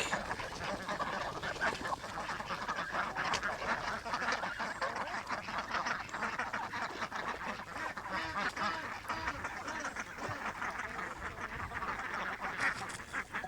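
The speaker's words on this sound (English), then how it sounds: "they seem a little nervous, especially the ducks" A flock of ducks quacks continuously and busily nearby, overlapping calls forming a steady chatter with a few goose-like honks mixed in.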